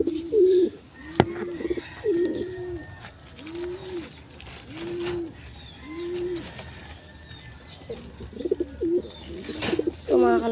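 Pigeons coo repeatedly at close range, a steady run of soft, rolling calls with a brief louder flurry near the end and a little faint background noise.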